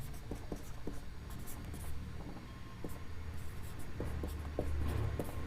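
Chalk or marker writing on a board: short scratchy strokes and taps come in small irregular clusters over a low, constant background rumble, with no speech.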